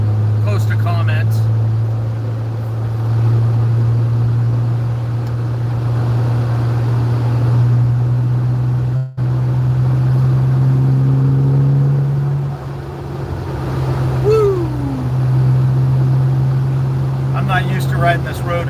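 Car driving along a road in the dark, its engine giving a steady low hum throughout with a brief dropout midway, while someone talks over it at times.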